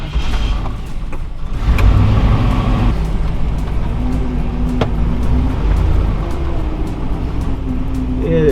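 A Toyota FJ45 Land Cruiser on a test drive on muddy winter roads in Utah, with a loud, steady engine drone and shifting revs heard from inside the vehicle.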